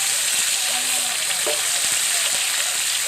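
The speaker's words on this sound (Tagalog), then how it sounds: "Pag nawala sa gitsit, luto na ho yan" Fish frying in hot oil, a steady close sizzle that fills the whole clip without pause, with faint background sounds.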